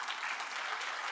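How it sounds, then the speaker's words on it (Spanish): Congregation in a church breaking into steady, dense applause, many hands clapping together in a full, continuous wash without pause. "Le da un aplauso a Dios por eso."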